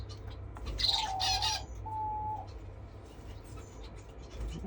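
Society finches chirp in a bird room: a few soft, high tweets and a short whistled note, quiet against a low background hum.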